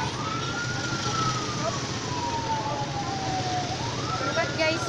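An ambulance siren wails steadily at the scene of a tricycle and motorcycle accident near Dumaguete, its pitch sliding slowly down then rising again over dense street traffic noise, loud and continuous throughout.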